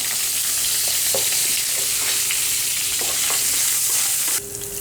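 Curry leaves and a pinch of asafoetida crackle and sizzle loudly in hot oil for a Kerala-style sambar tempering, a dense, close, steady hiss with small pops that drops off abruptly near the end.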